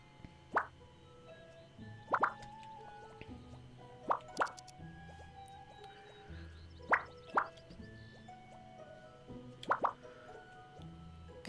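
In a school management video game, water drips from a rain-soaked student in soft, separate plops, roughly one or two every couple of seconds, faint and alone.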